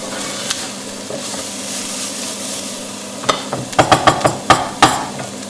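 Onion fries in a pan with a steady sizzle, then a spoon or spatula stirs it in a run of sharp, close scraping knocks against the pan.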